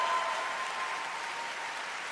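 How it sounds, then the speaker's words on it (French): Audience applause at a gala event, a steady wash of many hands clapping, fairly quiet and even from start to finish with no talk over it. "Bonne main d'applaudissements au comité organisateur."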